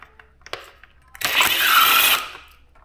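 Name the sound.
power driver on motorcycle headlight bolts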